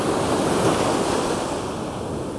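Waves breaking on an empty off-season Sea of Japan beach near Joetsu: a steady, loud wash of surf mixed with wind buffeting the microphone, with no voices.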